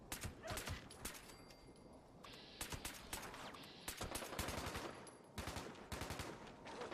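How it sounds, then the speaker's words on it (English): Fast-firing automatic grenade launcher in Fallout 76, rapid bursts of sharp, punchy shots in quick repeated volleys with brief pauses, close and fairly loud. "Bloodied, faster fire rate grenade launcher with +1 agility."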